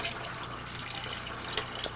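Water being drained out of a home fish tank during cleaning, a soft steady liquid trickle and splash running continuously at close range, with a faint brighter drip near the end.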